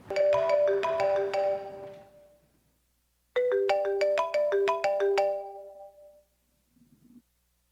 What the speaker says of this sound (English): if I hear that ringtone one more time